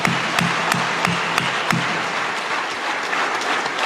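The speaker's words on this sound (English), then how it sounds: "Shall we together give her that round of applause?" An audience at a book launch gives a round of applause: dense steady clapping with several sharp, louder claps standing out near the start, fading slightly toward the end, with no talk over it.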